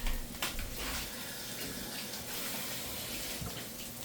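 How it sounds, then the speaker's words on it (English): A cup is rinsed under a running kitchen tap, a steady close rush of water with splashy changes as the cup moves in the stream. "let me rinse it again"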